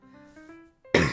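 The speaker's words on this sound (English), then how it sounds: "Cough, cough." A single sharp cough bursts out at the very end, loud and close, after a soft tonal hum.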